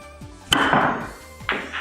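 A pool cue ball cracks sharply into the billiard balls, followed by a rolling clatter, then a second lighter knock as the balls collide again on the table.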